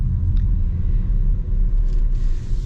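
A 2025 Range Rover Velar with its 2-liter four-cylinder engine hums along on the road, a steady low rumble heard from inside the cabin for a few seconds.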